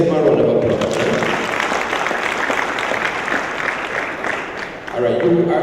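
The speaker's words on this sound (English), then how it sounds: "let's give him a round of applause." A crowd at a Jamaican agri-business investment forum claps in a sustained round of applause, dipping slightly near the end as a voice begins speaking over it.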